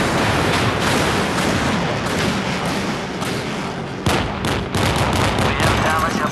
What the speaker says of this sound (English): Full rocket launch.